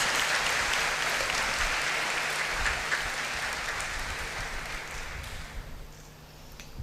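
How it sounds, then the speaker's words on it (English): An audience at a university event applauds a group of clergymen: dense, steady clapping from many hands, loud at first and gradually thinning and fading toward the end. "I thought we will applaud them for that."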